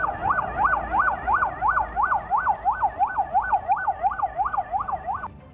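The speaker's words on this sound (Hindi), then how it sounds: "शहर का कोना कोना पुलिस की गाड़ियों के सायरन से गूंजता सुनाई दिया।" Police vehicle sirens wailing through a city street, a fast repeating up-and-down electronic yelp cycling steadily about every third of a second over low traffic rumble, loud and continuous before cutting off near the end.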